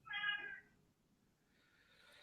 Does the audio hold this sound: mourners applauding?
no